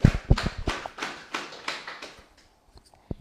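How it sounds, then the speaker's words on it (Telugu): At a spiritual talk on the Bhagavad Gita, an audience claps in a quick, rhythmic run of about eight sharp bursts that weaken and trail off, followed by near silence and one last faint clap. "గట్టిగా క్లాప్స్ కొడదాము."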